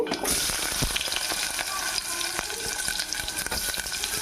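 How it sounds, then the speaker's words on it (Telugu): Chopped onions hitting hot oil with cumin seeds and curry leaves, a bright crackling sizzle with spatula clatter and stirring, close and continuous. "కొంచెం జీలకర్ర, కొంచెం కరివేపాకు వేస్తున్నాను. ఉల్లిపాయ ముక్కలు వేసేసుకుందామండి"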